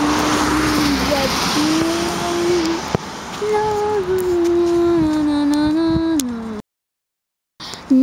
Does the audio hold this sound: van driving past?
yes